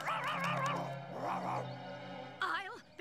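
Poodles barking and yipping in a cartoon scene, with busy sharp yaps through the first half, a growl-like stretch in the middle and another short yelp near the end, mixed with cartoon voices.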